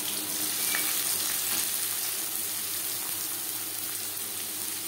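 Chopped onion sizzles in hot refined oil in a pan, a loud, dense and continuous close-up frying hiss that holds steady with no voices.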